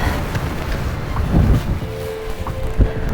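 Strong wind buffets the microphone on a rocky mountain ridge at Gamamsan, a steady loud roar with gusty surges and low thumps throughout.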